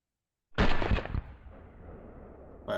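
An EM-2 airsoft rifle fires once, giving a sharp close burst followed by a short mechanical rattle and a fading tail, with a faint click near the end.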